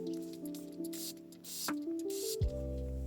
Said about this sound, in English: I'm gonna waste a few sprays and show you what it looks like.